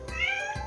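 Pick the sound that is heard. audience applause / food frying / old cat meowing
old cat meowing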